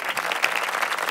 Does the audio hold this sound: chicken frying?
no